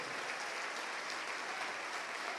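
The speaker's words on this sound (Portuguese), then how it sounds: "vamos aplaudir mais" A church congregation applauds during a service, a continuous, even roar of many hands clapping heard from a distance and fairly faint, with no break for the whole stretch.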